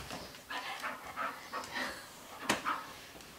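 A dog pants softly in short rhythmic breaths, close by and fairly quiet, with a brief sharp click near the end.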